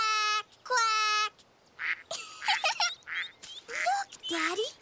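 Cartoon ducks quack in a family scene, a clear run of nasal quacks at close range and moderate loudness, mixed with voiced calls that may be a child imitating the ducks.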